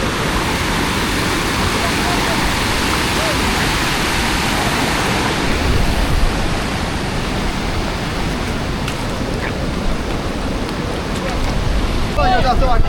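A monsoon waterfall roars as a dense, constant broadband rush of falling water, loud and close throughout, with faint voices of people nearby.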